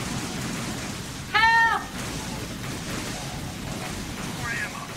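A single, clear cat meow rings out in Metal Gear Solid 2 during a boss rush played on a dance pad, rising over a steady hiss of game background noise.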